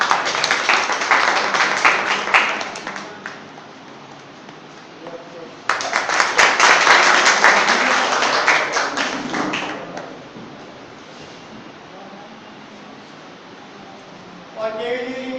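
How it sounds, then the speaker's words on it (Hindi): Guests at a KV News India event are welcomed with applause: two bursts of clapping from the gathered crowd, one early and a louder one midway, fading out before a voice speaks at the end. "तालियों से स्वागत करें।"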